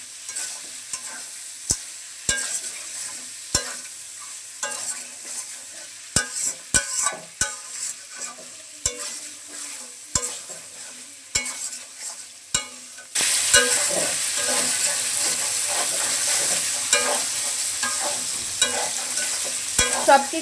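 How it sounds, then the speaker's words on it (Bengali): Rice and a rohu fish head stir-fried with spices in a pan for muri ghonto: steady sizzling throughout, sharp spatula scrapes and clacks at irregular intervals, the frying growing louder and denser partway through. "এখন সব কিছু ভালোভাবে মশলার সাথে কষিয়ে নেব।"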